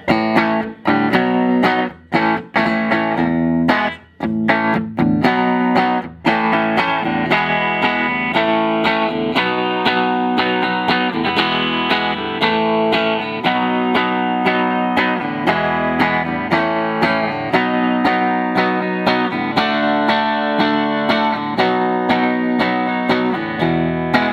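1966 Epiphone Casino electric guitar played on its bridge dog-ear P90 pickup through a Fender amp, giving a loud, distorted tone, with choppy strummed stabs at the start that give way to sustained ringing chords and riffs.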